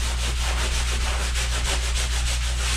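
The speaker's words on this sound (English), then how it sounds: "now we're going to do my version of sanding again" Steady, continuous rubbing of sandpaper across a drywall patch, with no pauses or talk, close and fairly loud.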